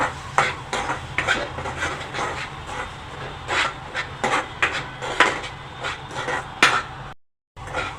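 Spatula stirring and scraping spices and salt around a pan while cooking suran (elephant foot yam) sabzi, busy repeated metallic scrapes and knocks, close and fairly loud, cutting off briefly near the end.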